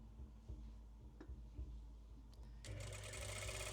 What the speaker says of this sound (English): Now you can do this with any sewing machine.